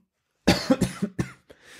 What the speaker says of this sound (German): Da hustet man gleich